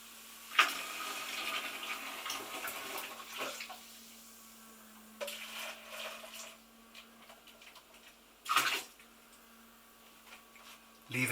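Water in a household toilet bowl treated with sodium percarbonate gushes in three separate bursts, each a rushing splash that quickly fades, over a quiet background with a steady low hum.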